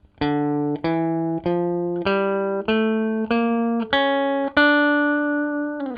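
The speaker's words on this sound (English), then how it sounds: "Now D harmonic minor scale sounds like this." A plucked guitar plays a D harmonic minor scale upward, about nine evenly spaced single notes, each ringing clearly until the next, with no talking.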